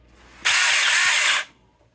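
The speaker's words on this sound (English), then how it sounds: "It's a chainsaw." Small 6-inch battery chainsaw runs alone for about a second, a steady near motor whine that starts and stops abruptly.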